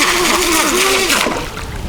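A waterproof SwellPro SPRY racing drone flips and dunks into open water, producing a close, loud rushing splash with a whining motor tone that slides up and down before fading out.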